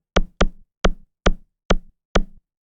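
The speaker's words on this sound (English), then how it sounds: "Because I'm thinking just from the sound of this kick" FM-synthesized kick drum from the Surge XT synth, six short punchy hits with a sharp click attack and brief tonal decay, played alone in an uneven rhythm against silence.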